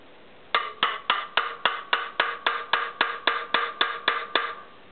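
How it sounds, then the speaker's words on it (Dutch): Sharp, evenly spaced hammer taps ring out on valve parts of a 650 motorcycle cylinder head, about fourteen clear metallic strikes in a steady rhythm, close and alone. "Hamer."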